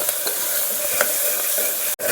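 Onions, curry leaves and green chillies fry in hot oil with a steady close sizzle and occasional stirring clicks, all without talk over roughly two seconds.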